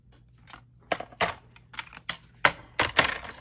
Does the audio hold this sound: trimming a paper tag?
yes